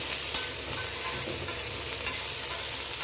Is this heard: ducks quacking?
no